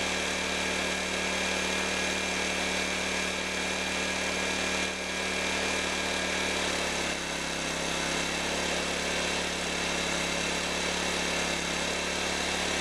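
Small Honda EX1000 portable generator engine running steadily after a carburetor rebuild, a continuous close, loud motor drone with a slight change in tone partway through, no voices.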